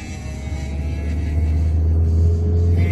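A car engine rumbles steadily during a beginner driving lesson, rising gradually in loudness as it accelerates, heard close from inside the cabin with no talk.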